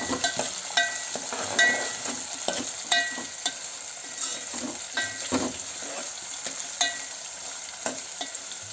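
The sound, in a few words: avarekayi beans frying in oil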